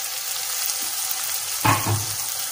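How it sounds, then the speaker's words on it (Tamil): Coriander leaves and mint sauté in hot oil, an even close sizzle with a brief louder stir-and-scrape burst near the end. "இது நல்லா ஒரு நிமிஷம் நல்லா வதக்கிட்டுக்கோங்க"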